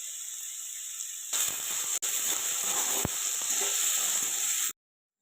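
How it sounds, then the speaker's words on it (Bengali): Potatoes fry in mustard oil with a bright, steady sizzle, close and loud, joined by a couple of small scraping knocks from stirring before the sound cuts off abruptly. "আলুটা সর্ষের তেলে আগে আমি 1 থেকে 2 মিনিট ভেজে নেব, মানে একটু নাড়াচাড়া করে নেব আর কি"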